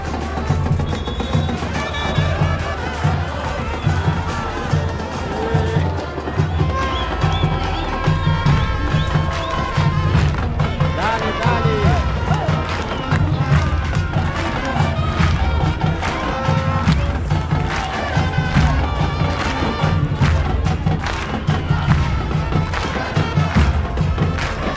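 A football stadium crowd in Encarnación, Paraguay keeps up a loud, continuous roar of chanting and cheering with rhythmic drumming thumps, steady and enveloping throughout.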